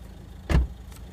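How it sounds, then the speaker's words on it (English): A single muffled thump as someone climbs into a car and the door shuts, a brief broadband knock standing out of a quiet background. "she's getting in the car."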